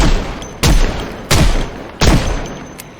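Three loud, close gunshot bursts from an M1919 machine gun in a video game, evenly spaced about two-thirds of a second apart, each a sharp boom trailing into a noisy decay over a steady background roar.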